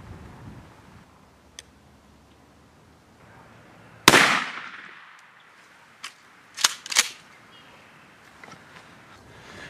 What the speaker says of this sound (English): And we're gonna fire one of the turkey loads.